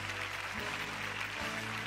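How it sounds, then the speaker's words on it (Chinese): A studio audience on the Beijing TV health show Yangshengtang claps for an arriving guest expert, a dense, steady wash of applause at even loudness throughout, with a low musical tone underneath and no speech. "掌声欢迎王主任"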